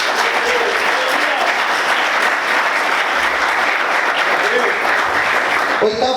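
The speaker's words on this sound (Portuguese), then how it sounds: "Você pode aplaudir o Senhor bem forte" Congregation at a Portuguese-language church service applauding loudly, a thick continuous roar of clapping, with voices mixed into the noise.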